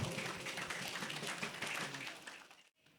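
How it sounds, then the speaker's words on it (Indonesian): Crowd applause for graduating junior high students at an Islamic boarding school ceremony, a dense wash of many hands clapping steadily for about three seconds before cutting off abruptly. "Mari kita berikan tepuk tangan yang meriah kepada seluruh siswa SMP"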